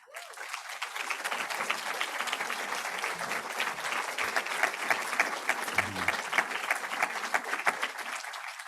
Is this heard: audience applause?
yes